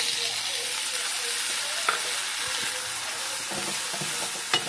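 Onions and tomatoes sizzling steadily in a pan for Maharashtrian bhaji, with a continuous hiss of frying and occasional scraping taps as the mixture is stirred, close and without any talk.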